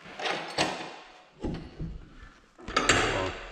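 The man door of an enclosed trailer is opened, giving several separate knocks and clunks of latch and hinge spaced over a few seconds, close by, with no talking.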